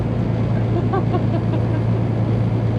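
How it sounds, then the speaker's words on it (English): A semi truck engine lugs as it climbs a hill with cruise control off, a steady low droning rumble and vibration continuing throughout with faint road noise on top. "you heard that vibration there? That was a little bit of lugging happening."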